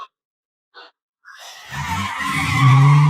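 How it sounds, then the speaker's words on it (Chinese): A car engine catches after a few brief clicks and quickly roars up in pitch as the vehicle accelerates hard, getting louder with a squealing, revving edge in a tense movie escape. "赶紧发动引擎，猛踩油门逃离这里"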